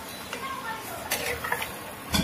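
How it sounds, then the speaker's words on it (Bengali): Potatoes being stirred with yogurt in a pan, a soft scraping and clinking of a spoon against the pan with a few sharper knocks near the end, close and fairly quiet. "নাড়িয়ে দেবেন।"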